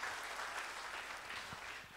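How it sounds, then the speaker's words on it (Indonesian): A church congregation claps together, a soft, steady patter of many hands heard from a distance, fading slightly toward the end with no voices on top. "Beri tepuk tangan buat Tuhan Yesus."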